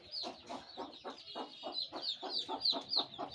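Farm hens kept in their daytime coop cluck in a steady, repeated rhythm of about eight close, even pulses, with no other sound around them.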